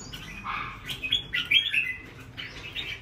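A red-whiskered bulbul calls during a fight, giving a burst of loud, close chirps and sharp whistled notes in quick irregular succession, with no talking.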